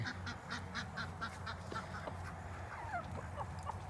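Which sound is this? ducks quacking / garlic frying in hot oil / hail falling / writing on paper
ducks quacking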